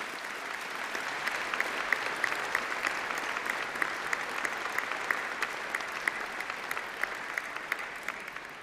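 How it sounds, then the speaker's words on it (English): A large graduation-ceremony audience gives a steady, sustained round of applause, even dense clapping heard at moderate distance throughout without any speech. "Please give them a really big round of applause."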